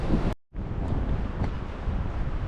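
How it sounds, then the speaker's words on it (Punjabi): Strong wind blasts steadily across the microphone as a loud, rushing roar on a black sand beach in New Zealand, cut by a brief moment of silence near the start. "ਹਵਾ ਬਹੁਤ ਤੇਜ਼ ਹੈ"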